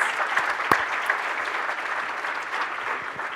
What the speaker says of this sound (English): let's give another round of applause for Representative Hakeem Jeffries